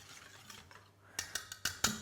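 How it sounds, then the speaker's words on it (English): A whisk scrapes and taps against a bowl while lemon chocolate mixture is stirred until melted and shiny, giving a few sharp, close clinks at an irregular rhythm after a quieter start. "We give that a whisk until it comes together"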